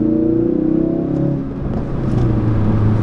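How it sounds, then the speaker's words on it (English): A 2017 Ford Focus RS pulls hard in third gear while merging onto a highway, its engine note a steady, loud rumbling drone with rising harmonics that dips briefly midway, heard from inside a quiet cabin with no talking. "That was a little third gear pull right there, getting onto the highway"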